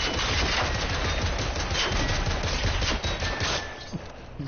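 Rapid, loud video game gunfire rattling nonstop like automatic weapons for most of the clip, then tapering into a few scattered shots.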